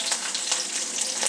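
Green chillies and urad dal sizzling in hot oil with mustard seeds in a pan, a close, steady crackling hiss with no voices.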